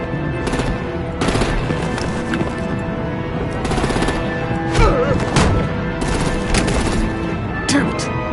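Automatic weapon fire rattles in repeated loud bursts against armored vehicles during a Batman: The Enemy Within game scene, with shots clustered in short volleys separated by brief gaps and voices briefly heard between them.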